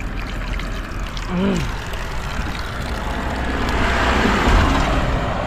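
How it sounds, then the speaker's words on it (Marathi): Cold mountain water flows and pours in a continuous broadband rush that slowly grows louder, with a brief voice heard partway through. "डोंगरातनं पाणी येतंय ना, काय पाणी गार पण आहे"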